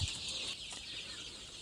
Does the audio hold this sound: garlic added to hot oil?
no